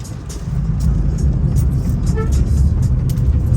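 A local number 1 bus in St George's, Grenada, its engine and road noise rumbling steadily from inside, with a short horn toot partway through and voices faintly in the background.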